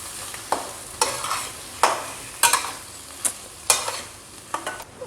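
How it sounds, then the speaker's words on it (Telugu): Paneer bhurji garnished with coriander is scooped from the pan into a serving bowl: a series of about ten brisk scraping, clinking strokes of a spoon, close and fairly loud, with no talking. "దీన్ని మనం కొత్తిమీరతో గార్నిష్ చేసుకొని ఒక సర్వింగ్ బౌల్లోకి షిఫ్ట్ చేసుకుందాము"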